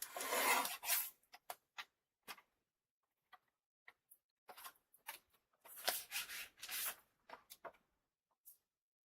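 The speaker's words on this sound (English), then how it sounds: "And then trim our sentiment strip." Scissors or a paper trimmer cutting a thin paper sentiment strip at a craft table, a longer rasping stroke followed by scattered short snips and scrapes, close and fairly quiet with no talk.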